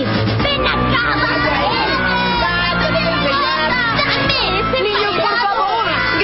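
Children shout and clamor in a cartoon schoolyard at recess, a dense, loud, continuous crowd of overlapping young voices with cheering and babble filling the whole stretch.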